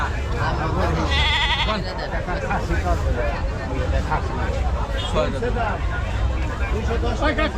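Goats bleat again and again at a busy livestock market, their loud, wavering cries rising over a steady babble of crowd voices close around.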